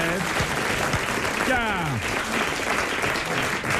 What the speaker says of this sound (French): Vos applaudissements.